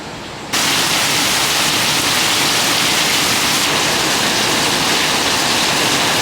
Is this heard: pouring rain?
yes